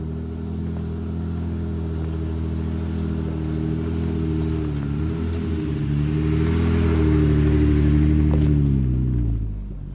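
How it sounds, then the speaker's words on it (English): An off-road vehicle climbs a hill, its engine pulling loudly and steadily with pitch shifts as it labours. The sound swells near the end, then drops away. "Let's drive up this hill and scope it out."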